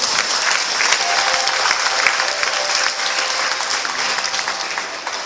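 Church congregation clapping their hands together in dense, sustained applause throughout a Sunday service, a steady loud wash of many palms with a few brief tonal voices faintly under it.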